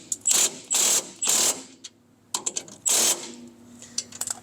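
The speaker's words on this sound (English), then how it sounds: "we're going to take our wrench and our gun and we're going to snug that down" Short bursts of a wrench and power gun snugging down a mud flap bracket bolt on a 2024+ Polaris RZR XP, with three quick buzzing runs followed by ratcheting clicks and a final burst, close and alone.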